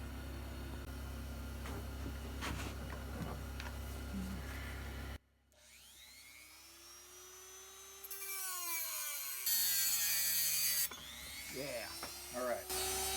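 A Dremel rotary tool cuts through a Morakniv knife blade being fitted to a Leatherman Surge, whining up and down in pitch in several loud passes after an initial stretch of steady grinding noise.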